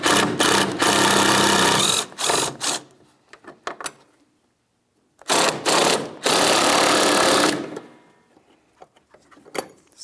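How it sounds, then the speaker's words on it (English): On a 2007-2014 Ford Edge 3.5L, two 8mm headed bolts are removed from a metal alternator bracket: loud, buzzing power-tool bursts come in several short runs, separated by quiet gaps and light clinks. "It's held in place with two 8mm headed bolts."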